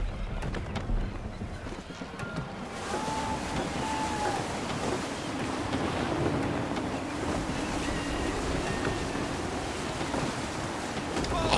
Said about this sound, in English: Sail upon the ocean seas, yo ho ho, and a bottle of rum. Stay alert, Connor. Gusty winds can be difficult to manage